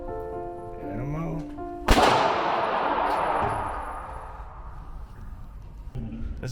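A single loud Glock pistol shot cracks out at a shooting range, its sharp report decaying into a long rolling echo, with faint background noise before and after.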